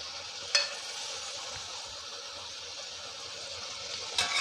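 Chicken roast gravy with coriander leaves being stirred in a pan, a soft steady sizzle with faint scraping and a couple of brief clinks near the start and end, no voices.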